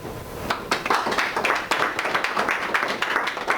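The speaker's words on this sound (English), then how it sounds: "Big round of applause." A lecture audience applauds steadily, many hands clapping in a dense, continuous patter that holds at a fairly loud level throughout.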